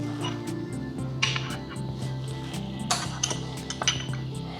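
Chopped lemongrass fries in a pan while a utensil stirs it, with repeated metallic clinks against the pan over a steady low hum and a faint voice.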